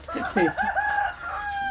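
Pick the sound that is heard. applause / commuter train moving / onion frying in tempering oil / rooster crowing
rooster crowing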